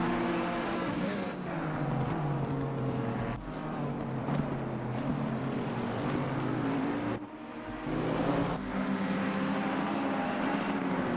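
GT3 race cars in Assetto Corsa Competizione lap the Misano circuit, engines droning loud and steady with shifting pitch as cars pass and slow for a hairpin, with brief dips between.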